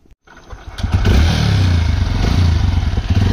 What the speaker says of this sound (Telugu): హెడ్ లైట్ ఆన్ అవ్వాలంటే ఇంజిన్ స్టార్ట్ చేయాలి.